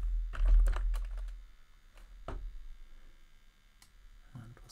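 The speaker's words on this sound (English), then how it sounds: "then I'll type in the name of the pharmacy" Keys tapped on a computer keyboard while entering a pharmacy name, a quick cluster of close clicks followed by a few scattered single taps.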